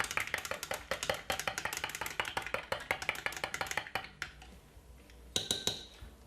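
A spoon stirs a honey drink in a glass, clinking steadily and rhythmically against the sides for several seconds, then slowing to a few last taps.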